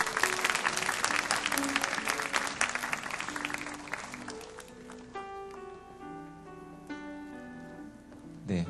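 A congregation at a church youth worship service bursts into loud applause that gradually fades, giving way to soft organ or keyboard tones as the clapping thins out.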